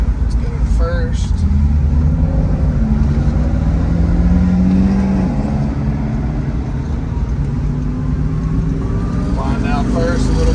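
A 1968 Shelby GT350 V8 with a factory four-speed pulls hard in first gear, its engine a loud, steady low rumble that rises and falls throughout, with a voice talking over it inside the car.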